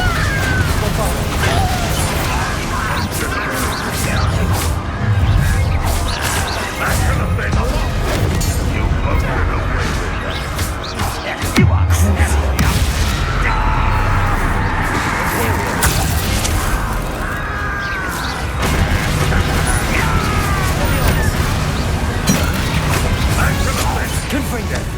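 Confringo and Bombarda explosive spells go off during Hogwarts Legacy combat as dense, continuous crashes, booms and clattering bursts. Spell names and other voices are heard over the din.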